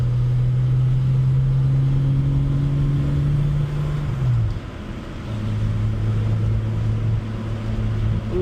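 A Jaguar E-Type's 4.2-litre six-cylinder engine drones steadily while driving with a five-speed manual, holding a smooth mid-pitched note, dipping briefly around a gear change and resuming, heard from inside the car without talk.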